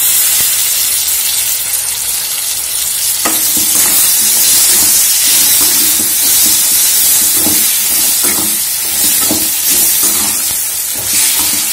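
Tomato pieces sizzle loudly in a hot pan for bitter gourd (kakarakaya) curry, a steady frying hiss broken by repeated rhythmic stirring scrapes, close up with no talk.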